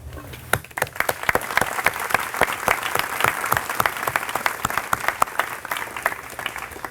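An audience at a middle school closing ceremony breaks into sustained applause, with many sharp claps packed into a dense, lively wash that carries on without talk.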